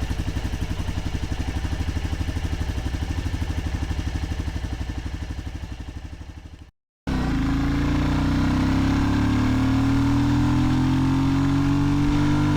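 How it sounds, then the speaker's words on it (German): A Royal Enfield motorcycle engine runs with a newly fitted air filter: a steady, loud idle thump, a brief cut, then a rougher, rising intake roar as the throttle is opened, close up with no talking. "Was dann nach der Montage gleich auffällt, schon beim ersten Gas geben eigentlich, ist, dass der Motor, zumindest mal das Ansauggeräusch, etwas rauer klingt"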